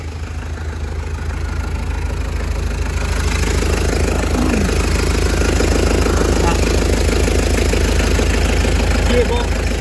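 A 2006 Peugeot Partner 1.9 diesel panel van idles with its bonnet open, a steady close clattering rumble that grows slightly louder after a few seconds and runs without a break.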